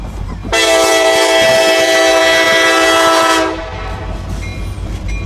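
A train passes on the tracks with a loud, sustained horn blast lasting about three seconds, set against rumbling rail noise that lingers faintly after the horn stops.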